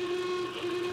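A hoarse horn on a brand-new car sounds as one steady, slightly rough tone, held loud and close for about a second with no pause.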